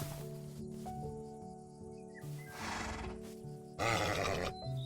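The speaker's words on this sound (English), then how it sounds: "You are a horse, aren't you?" Horse neighing in the Minecraft video game, a couple of whinnies over steady game music, with faint clip-clop and rustling between the calls.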